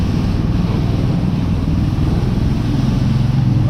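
Uragan all-terrain vehicle driving through puddles, its engine a loud, steady low rumble with continuous wind and splashing noise throughout, no breaks.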